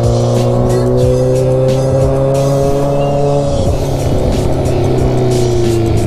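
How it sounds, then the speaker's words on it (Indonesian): A car's loud aftermarket exhaust drones steadily and close up with strong humming tones while driving, the pitch dipping briefly as the throttle shifts. "ini knalpot asli berisik banget guys"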